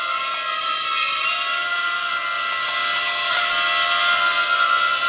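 A WLToys Q272 hexacopter drone hovers nearby, its six rotors giving off a steady, high-pitched buzzing whine that holds constant throughout.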